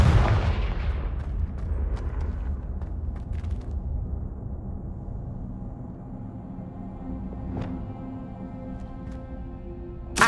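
A Confringo blasting spell detonates in Hogwarts Legacy with a loud, booming burst that rumbles and decays over several seconds, followed by faint magical chimes and a small pop at the end.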